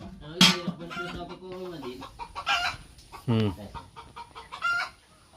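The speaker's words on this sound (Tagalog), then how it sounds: "ay, may manok pala ron" Chickens cluck nearby in short repeated bursts, with a louder squawk early on, while people talk in the background.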